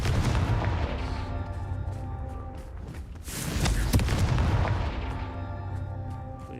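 Confringo blasting spell in Hogwarts Legacy, a loud rumbling explosion with a sharp crack near the middle over a dense boom that fades slowly, with no speech.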